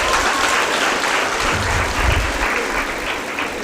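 An audience bursts into loud, sustained applause at a speech event in Karimnagar, the dense clapping continuing steadily and close throughout without speech.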